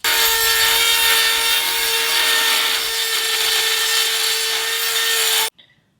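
Dremel rotary tool with a cutting bit slicing through metal pieces for a roof rack light mount, a loud continuous high-pitched grinding whine held steady for about five and a half seconds before cutting off abruptly.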